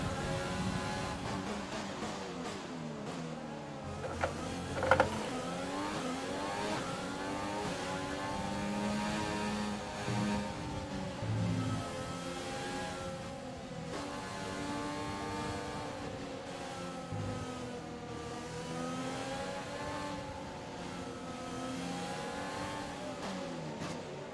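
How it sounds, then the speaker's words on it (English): Open-wheel race car engine from F1 2020 at the Vietnam Grand Prix, a worn, struggling engine revving continuously with rising and falling pitch as it accelerates and shifts, loud and sustained throughout with no talking. "Don't tell me now that my engine is struggling."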